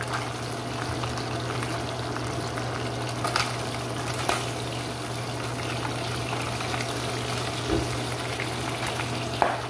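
Fish frying in oil in a home kitchen pan for a Filipino supper, a steady, dense sizzle and crackle that holds throughout, with a few brief louder pops and clinks, no voices.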